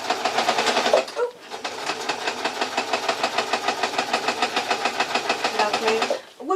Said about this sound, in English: it's straightforward sewing